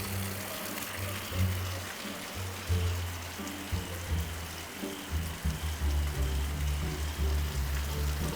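Steady rain falls outdoors at a building site, a continuous close wash of drops with low rumbling underneath and no talk.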